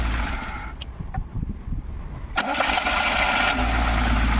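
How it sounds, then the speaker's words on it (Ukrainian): After a few clicks and a short pause, a car engine with no battery fitted, powered by a Promate PatrolPack-2 2000A jump starter, turns over and starts, then runs at a loud, steady idle. "бустер заводить автомобіль без акумулятора"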